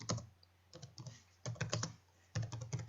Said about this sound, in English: I'm going to click once, and I'm going to type text.